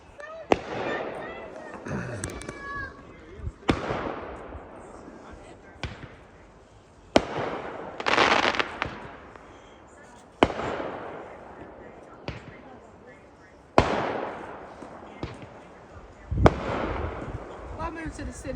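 New Year's Eve fireworks bang out in the countryside, a series of sharp loud bursts roughly every few seconds with crackling tails, while people chat over and between the explosions.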